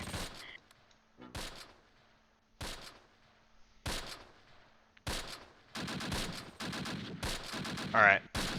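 Repeated bursts of small-arms and machine-gun fire in a World War II tactical strategy game set near Arnhem in September 1944, sharp cracks separated by pauses, then a denser volley near the end with a faint voice briefly underneath.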